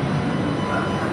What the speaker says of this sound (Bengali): পাশে থেকে আরেকটা মেট্রো যাচ্ছে